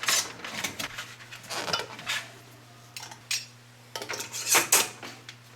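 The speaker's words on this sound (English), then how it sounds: "we're just going to put bands on each one of these jars" Metal screw bands clink against glass canning jars of orange honeysuckle jelly in a home kitchen, a string of sharp, close clatters and scrapes coming in irregular bursts over a steady low hum.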